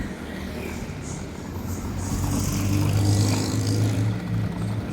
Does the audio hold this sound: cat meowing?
no